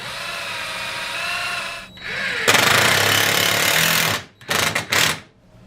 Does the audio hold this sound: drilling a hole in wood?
yes